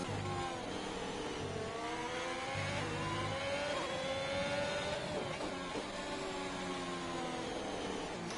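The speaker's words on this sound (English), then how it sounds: "I see the Destroyer back in the McLaren this week. Currently on an out lap" Formula 1 car engine in a racing video game, a McLaren on an out lap during a Hungary round: steady high-pitched whine with shifting revs throughout, continuous and fairly loud, no talk.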